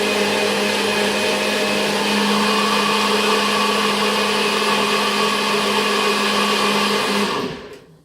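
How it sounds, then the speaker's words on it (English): A NutriBullet blender whirs steadily as it purées blueberries and cherries, a loud continuous motor roar with high whine that holds for about seven seconds before winding down and stopping. "I use a NutriBullet."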